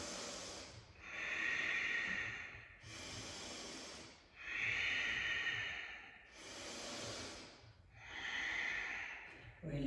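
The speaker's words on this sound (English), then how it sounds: "3 more breaths here" Deep, slow breaths during a pregnancy yoga session, three long hiss-like inhale and exhale cycles, close and steady, each swelling and fading with brief pauses between, with no talking.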